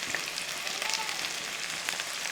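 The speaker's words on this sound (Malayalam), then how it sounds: "ഇനി ഇതെല്ലാം കൂടെ ഒന്ന് ഇളക്കി ഇതേപോലെ നല്ലപോലെ ഒന്ന് വഴറ്റിയെടുക്കണം." Onion, garlic and green chillies sauté for dal curry in a soft, continuous hiss of frying. The sizzle is even and fairly quiet, with faint stirring.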